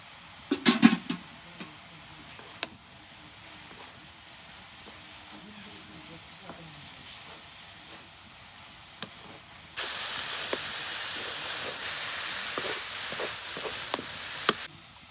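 Onions and chilies hit a hot frying pan and set off a loud, steady sizzle that lasts several seconds and follows quieter kitchen clatter and a few taps.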